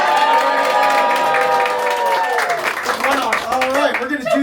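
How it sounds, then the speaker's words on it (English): Audience applause and cheering at a birthday party with a magician, steady clapping and cheering voices throughout, with loud whoops and shouts rising over the crowd noise. "And a round of applause for Ron."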